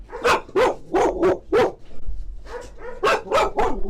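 Dogs bark close by in a quick run of loud, sharp barks in rhythmic clusters, with a short pause midway before another burst.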